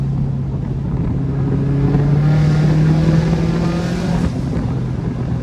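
Subaru WRX hatch with a turbo fitted pulls hard through first into second gear, a loud, close engine drone climbing in pitch, briefly dipping at the shift, with wind noise on the microphone.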